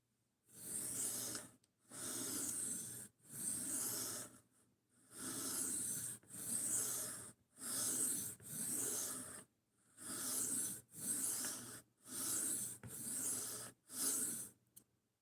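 A drop point knife blade is sharpened freehand on a stone, with steady rasping strokes in bursts of about a second, separated by short pauses, close and fairly quiet with no talk.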